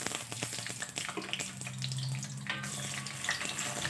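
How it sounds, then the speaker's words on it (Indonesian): Pindang fish frying in a pan sizzles and crackles steadily, with a continuous close spatter and scattered sharp pops and no talking. "Selanjutnya kita goreng pindangnya terlebih dahulu."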